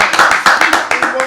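A small podcast studio audience claps in a brief burst of several close, uneven hand claps, with some voices mixed in.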